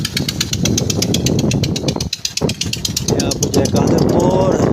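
Motorcycle engine running loud and close on a rural road in Punjab near the Sutlej river, a steady rattling drone with rapid regular firing pulses, continuous with a brief dip midway.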